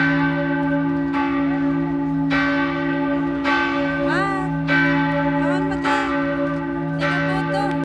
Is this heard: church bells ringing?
yes